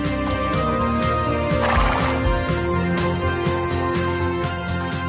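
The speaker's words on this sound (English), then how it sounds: "trying horse riding." A horse at a sports park riding area gives a loud, close whinny over steady hoof clip-clops, with a background of music-like tonal sound throughout.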